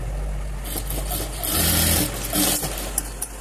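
Sewing machine stitching a blouse piece: a close, humming motor with rapid needle chatter in bursts, speeding up and slowing between runs, followed by a couple of light clicks.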